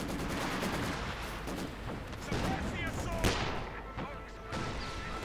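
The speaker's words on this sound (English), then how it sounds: "Katyusha could also send a few quick shots there." Katyusha rocket artillery in Company of Heroes 2 during a 2v2 match, a busy wash of battle noise with scattered explosive shots and a sharper impact near the middle, moderately loud under continuous game sound.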